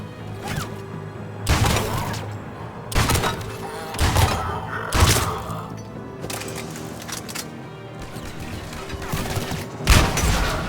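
Gunfire in the video game Mass Effect 3, with heavy booming shots and thudding impacts arriving in irregular bursts every second or two, some close and loud, with lighter rattling fire between them.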